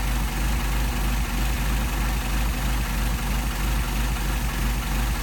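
An engine with a Solex carburetor idles steadily while being tuned for idle speed around 600 rpm, a loud, even, low rumble that runs unbroken throughout with no voices.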